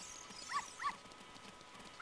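A dog in the video game The Legend of Zelda: Ocarina of Time gives three short, identical synthesized barks spaced evenly apart, faint over quiet game background ambience.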